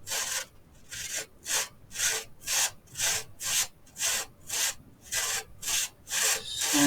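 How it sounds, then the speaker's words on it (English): Sandpaper rubs back and forth to flatten a bump on a model house wall, about a dozen even, rhythmic scratchy strokes close up with no talking. "Sand that down to flat without hurting anything."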